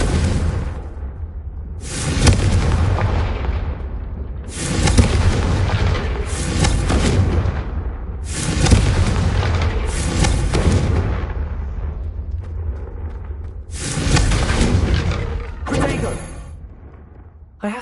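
Repeated fiery explosions from the Confringo fire-blast spell in Hogwarts Legacy, about six deep booming blasts with rumbling decay, loud and close, spaced a couple of seconds apart with voices speaking between them.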